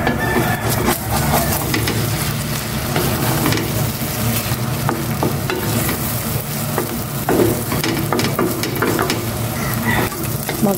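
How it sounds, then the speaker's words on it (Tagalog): An egg sizzling and frying in a pan, a loud continuous crackle with scattered pops and scraping stirring sounds throughout, close and with no one talking. "Ilagay ko na itong itlog"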